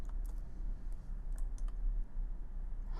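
Several light, crisp clicks of a computer mouse in Adobe Illustrator, spaced irregularly over a low steady hum of room noise.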